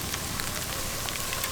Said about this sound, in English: This rain and ice is no joke.